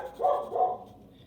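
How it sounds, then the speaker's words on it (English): Dogs give a quick double bark, two short muffled woofs a little way off, then quiet. "And you can hear my dogs barking again."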